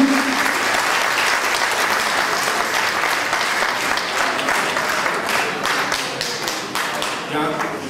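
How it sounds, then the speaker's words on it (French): Sustained, loud audience applause in a hall after a fado performance, dense rippling clapping from a full crowd holding steady for several seconds before thinning slightly. "Les applaudissements, ils le méritent beaucoup."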